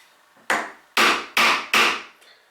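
Four sharp, loud chisel strikes chopping a mortise in wood, evenly spaced blows each ringing out and decaying before the next, close and alone, followed by a faint softer tap.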